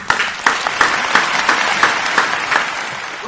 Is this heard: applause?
yes